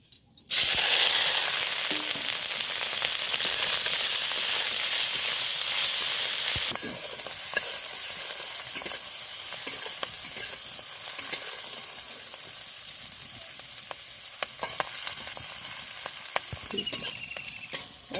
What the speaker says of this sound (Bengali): এটা আমি এবার কড়াইতে তেল দিয়ে ভেজে নেব